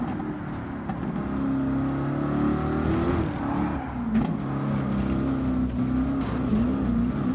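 Subaru race car engine in the Gran Turismo video game, a steady droning hum that holds at a constant loud level with slight pitch sweeps as the car shifts and revs, and no speech.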